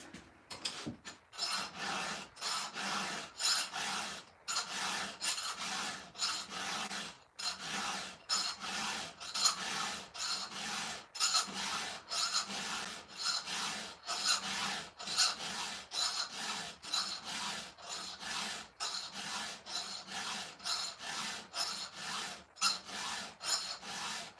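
A hand file rasps along a chainsaw chain during sharpening, steady repeated push strokes in a regular rhythm with brief gaps between, close and fairly loud, continuing throughout with no talking.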